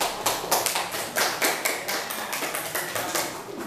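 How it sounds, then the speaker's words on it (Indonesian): Schoolchildren in a classroom give a round of applause, a dense run of quick, fairly close claps that keeps an uneven rhythm for the whole stretch, with no voices over it. "Tepuk tangan."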